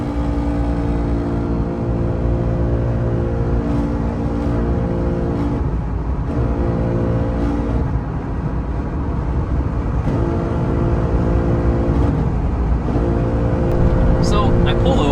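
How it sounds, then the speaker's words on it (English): A failing rear differential on a Jeep Gladiator whines while driving, a loud continuous tonal drone over road rumble that holds steady and swells slightly near the end. "This is some of the worst rear end noise I've ever heard in my life."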